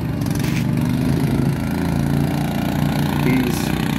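A racing lawn mower drives through a deepening muddy clay corner at a mud mower event, its engine droning steadily at mid distance with faint voices underneath.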